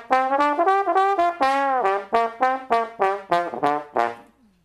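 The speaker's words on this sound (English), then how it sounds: "And this is a trombone. It's a member of the brass family" A solo trombone plays a lively Dixieland-style phrase of about a dozen separate notes, loud and close, with some notes sliding in pitch, and no one talking over it.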